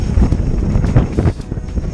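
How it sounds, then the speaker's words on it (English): Strong wind buffeting the microphone during mountain biking in the Forest of Dean, a loud continuous roaring rumble with gusty swells, no talk heard. "Oh my god, really windy."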